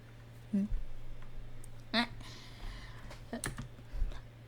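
Computer keyboard and mouse clicks during a gaming session come as a few sparse, quiet taps and clicks, spaced irregularly over a low steady background hum.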